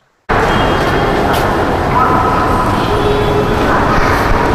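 A Bengaluru metro train produces a sudden, loud, steady roar of rolling wheels and rushing air that continues without a break, with faint squeals mixed in.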